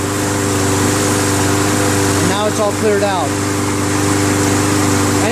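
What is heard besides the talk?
Troy-Bilt TB110 push lawn mower engine running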